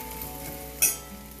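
Onion frying in a pan for rasam gives a soft, steady sizzle under a faint hum, with a single sharp clink or stir partway through; no voices.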